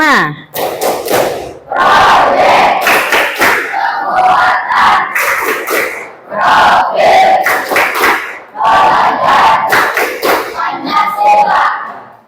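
An Indonesian school class performs the P5 tepuk chant, a loud group of young voices calling out in unison with crisp rhythmic clapping, broken into several energetic bursts with brief gaps.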